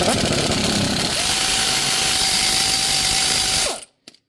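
A 14mm socket on a power tool loosens the top brake caliper bolt on a Mazda CX7 during a rear pad and rotor job, a loud steady whirring drone lasting several seconds before it cuts off, followed by a couple of faint clicks.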